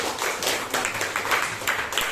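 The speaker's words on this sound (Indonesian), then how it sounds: "Tepuk tangan untuk Amel." A class of eighth-grade students claps for a classmate after her poetry lesson answer, a dense, steady patter of many hands close by that carries on without a break.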